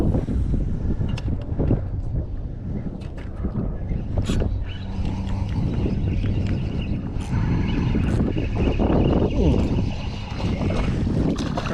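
Strong wind buffets the microphone on rough water at Oso Bay in Corpus Christi, Texas, during a fishing trip. Loud, constant rumbling gusts are mixed with water slapping against a small boat.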